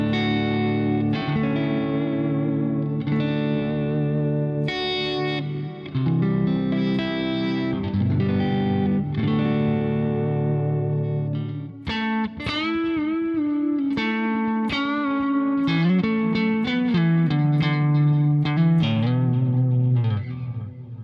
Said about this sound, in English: Here's the Boss DD200.